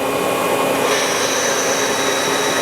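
A Citizen M-20III Swiss-type CNC lathe cutting with gang tooling, giving a steady, loud machining whine and hiss with a high tone that rises slightly partway through, continuous with no talk.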